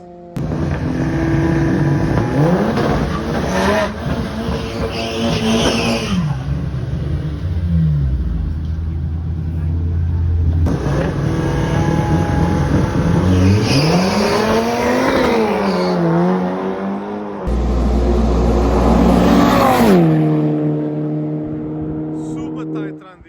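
Drag race cars, an Audi and a VW Golf Mach 5, roar loudly through repeated accelerations with rising engine pitch and gear changes, each run surging up then cutting off.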